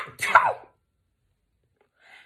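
A single sharp sneeze bursts out close by, followed by silence and a faint, brief sound near the end.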